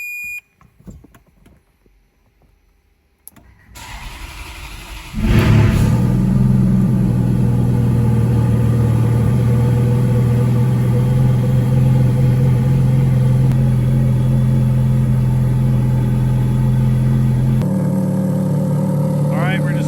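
A Ferrari F430 engine cranks and fires up after a spark plug change, settling into a loud, steady idle with a brief blip near the end, preceded by quiet workshop sounds.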